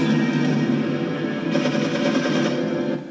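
Continuous rapid gunfire from the video game Resident Evil 4, a loud, dense stream of shots that runs nearly without pause before easing off at the end.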